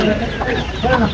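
Chickens cluck and squawk close by amid busy background chatter at a village livestock market in Chandapura, where turkeys are also sold, the calls overlapping in a noisy, crowded setting.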